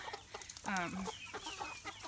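A hen lets out a loud drawn-out clucking squawk amid softer scattered clucks nearby, with faint background noise.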